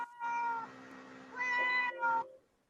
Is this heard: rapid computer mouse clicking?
no